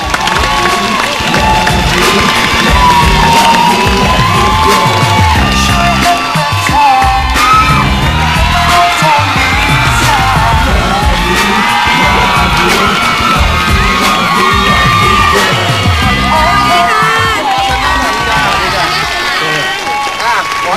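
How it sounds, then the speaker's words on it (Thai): A loud crowd at a Thai TV show applauds and cheers continuously, with whoops and clapping mixed in, lively and sustained throughout. "ขอเสียงปรบมือให้นางเอกของเรื่องแพร"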